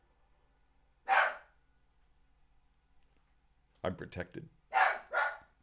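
A dog barks in short bursts indoors, one bark early and then a quick cluster of several barks a few seconds later, with a voice speaking briefly in between.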